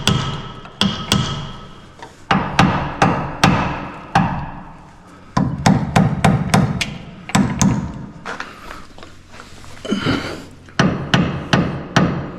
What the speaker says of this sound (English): I'm gonna tap it with a hammer.